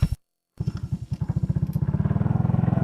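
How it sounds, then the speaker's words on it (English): A motorcycle ridden along a rural road in La Union. After a brief cut, the engine's throbbing pulses speed up as it accelerates, loud and close, with no talking. "Riding a motorcycle just feels so good."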